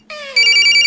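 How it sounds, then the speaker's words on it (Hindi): A telephone rings with an incoming call, a bright electronic ringtone that starts abruptly and holds steady at close range, with no voices over it. "अम्मी मुझे क्यों फोन कर रही है"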